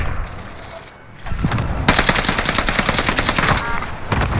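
Gunfire from a Call of Duty Warzone match on Rebirth Island: a sharp shot, then a dense burst of rapid automatic fire that runs for about two seconds before stopping, loud and close.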